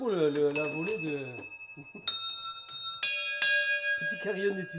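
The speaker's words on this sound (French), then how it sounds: "Petit carillon d'études. Il est trop mignon." Small study carillon bells chime in a few distinct struck notes with ringing sustained tones, close by, interleaved with people talking.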